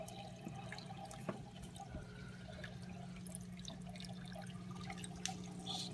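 Water siphons and drips in an aquarium refugium beside a Red Sea Max 130d tank, with a quiet, steady trickle, scattered soft drips and a low pump hum underneath.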